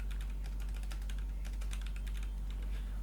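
Fingers type on a computer keyboard while writing HTML code, a close, steady patter of quick key clicks with brief pauses, over a constant low electrical hum and no speech.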